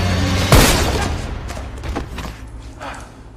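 A single gunshot in an action film about a hired killer: one sharp, heavy bang near the start over a dense, rumbling soundtrack that gradually fades, with a few softer thuds after.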